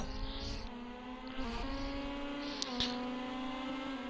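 A race car engine in the Rally Fighters video game drones at a high, steady pitch, dipping briefly as gears shift, then climbing again; fairly faint, with no voices.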